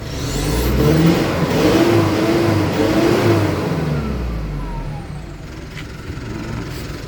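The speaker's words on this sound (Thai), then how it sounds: "ฟังเสียงเครื่องยนต์นะครับ" The 2.4-litre engine of a 2015 Mitsubishi Triton Double Cab pickup, with a replaced exhaust, revs up and holds a deep, throaty roar close by, then settles toward idle, with no talking.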